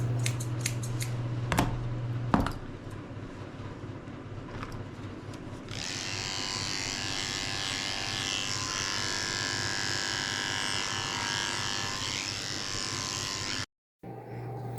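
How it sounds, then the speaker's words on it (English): Grooming scissors trimming the fur under a Shih Tzu-Poodle mix, a few crisp snips up front, followed by a long steady buzz of electric clippers close by. "I'm going to trim up right underneath and make it nice and neat and even"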